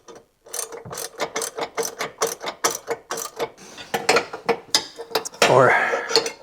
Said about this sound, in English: I'm trying to ratchet down, but it's actually hitting the tires and it's getting in the way.